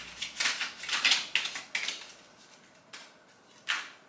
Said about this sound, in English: let's have another quick shuffle